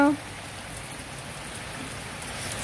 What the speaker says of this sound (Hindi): सावन की बरसती बारिश या इंग्लैंड की बरसती हुई बारिश